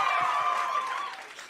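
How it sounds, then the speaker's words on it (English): A canned crowd sound effect set off by a button press, a broad cheering-and-applause wash that is loud at the start and tapers over about a second and a half, with no talk over it. "I hit a button that made a sound like a crowd"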